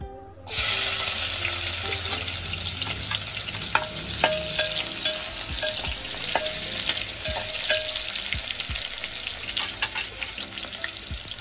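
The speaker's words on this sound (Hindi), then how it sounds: "उसी ऑयल में हम एक प्याज को कट कर कर ऐड करेंगे" Chopped onion dropped into hot oil left from frying potatoes bursts into loud, close sizzling that continues steadily, with occasional clicks and scrapes of stirring.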